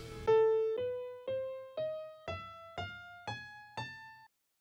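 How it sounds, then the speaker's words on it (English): A Byzantine scale, harmonic minor with a sharp fourth, played as eight separate plucked or struck notes climbing at a steady pace, each ringing and decaying before the next, alone with no talk. "we have our Byzantine scale, which is a sharp 4 with our harmonic minor scale"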